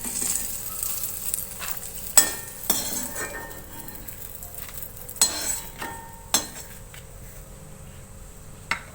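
Chilies frying in a pan give off a steady low sizzle, punctuated by several sharp clinks and scrapes of a utensil stirring against the metal.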